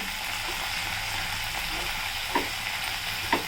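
Finely chopped fenugreek leaves frying lightly in a pan for an Andhra-style dal, a steady soft sizzle with occasional spoon scrapes toward the end.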